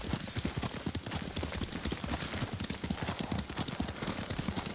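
Horse hooves clip-clop steadily and close in Ghost of Tsushima as a rider travels along, a brisk even rhythm of hoofbeats under a faint ambient bed, with a possible brief whinny.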